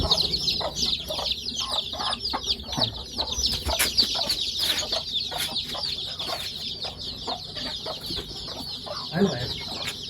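Desi hens at a village poultry farm cluck in a steady, busy chorus, with a dense layer of high chick peeping running throughout at close range.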